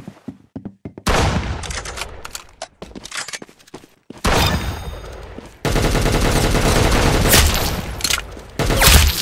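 Gunfire in the Roblox game Arsenal: scattered single shots give way to sustained rapid automatic bursts, loud and dense, with brief gaps between volleys.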